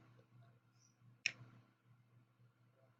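A single sharp computer mouse click on a link, crisp and close, against a low steady hum with no talking.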